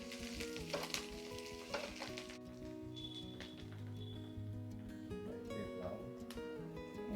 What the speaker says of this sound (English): Let's fry this till it's nice and golden brown in color.